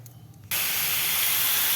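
Sliced bottle gourd dropped into hot oil tempered with five-spice and chilli, a sudden loud hissing sizzle that starts abruptly after a quiet moment and holds steady.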